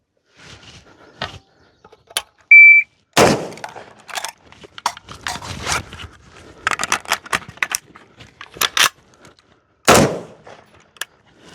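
Several sharp, loud shots from a Ruger Mini-14 rifle, spaced irregularly with a pause for a reload between them, with metallic handling clicks and rattles in the gaps.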